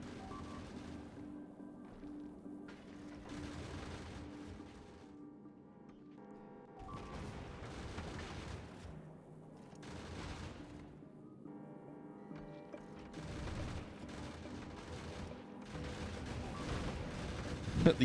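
Turret guns firing in the Factorio video game, repeated booming bursts and clattering volleys rising and falling under game sound effects, moderately loud, with a little talk nearby.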